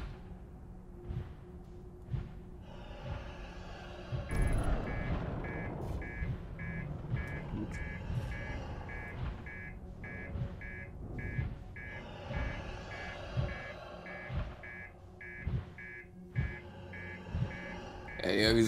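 A car alarm in the video game Outer Wilds beeps in a fast, regular pulse, on and off, mixed with game sounds and engine noise, with a voice talking over it.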